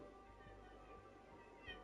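A pet cat meows faintly in a quiet indoor room, a few soft calls spaced apart, with a slightly louder one near the end.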